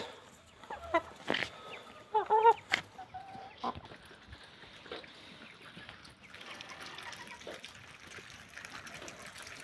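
Three-month-old Brahma chickens call in short bursts, with a few clucks and squawks in the first four seconds, then a quieter farmyard background.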